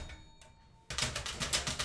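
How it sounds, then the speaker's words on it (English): Typewriter keys clack in a quick, loud, rhythmic run as a musical part, following a quieter stretch of sparse, softer taps. "you have the key makes sort of a basic clack sound"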